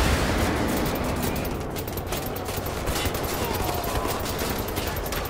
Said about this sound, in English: now he's shooting me, huh?